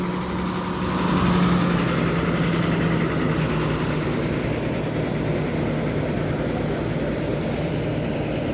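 The front engine of a Miyor Line Combi suite bus drones loudly and steadily from close by inside the cabin while the coach travels on a road near Palembang, a constant low rumble with no pauses.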